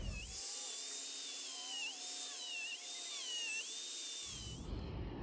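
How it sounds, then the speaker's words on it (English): An angle grinder whines close by while grinding off metal parts from a scooter, a steady high-pitched spin with slight wavering as it bites, starting and stopping cleanly with no talking. "first, I'm gonna take the grinder"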